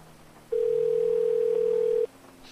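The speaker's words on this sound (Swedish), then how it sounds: "Jag ringer Frank Larsson" A telephone ringing tone heard while calling someone: one long, steady electronic tone lasting about a second and a half, alone with no talk.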